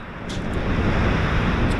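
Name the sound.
brisk northwesterly wind on the beach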